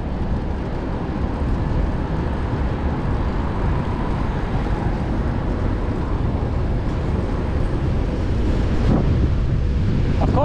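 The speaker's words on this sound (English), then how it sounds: "I get headwind again." Steady, roaring wind buffets the microphone while riding a fixed gear bike into a headwind on 6th Avenue in New York City, a constant broadband rush that fills the whole stretch at close range.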